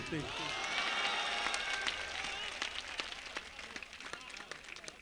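An audience at an Urdu poetry mushaira in Basti breaks into applause, a dense burst of clapping and cheering that swells at first, then thins into scattered claps, with voices in the crowd.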